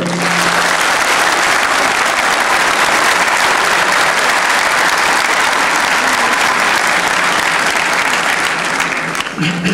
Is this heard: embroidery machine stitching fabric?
no